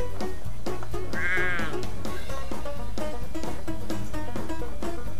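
Sheep bleating in The Sheep Game, a single wavering bleat rising over a dense, loud bed of game music and thumping beats, clearly audible but not dominant.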